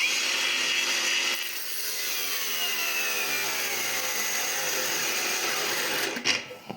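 A Heimerdinger LB183 cordless angle grinder cuts material at speed setting four, giving a loud, continuous high whine with a rough grinding edge. The whine holds steady and then cuts off abruptly at the end.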